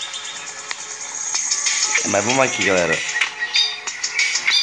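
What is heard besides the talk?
pet bird chirping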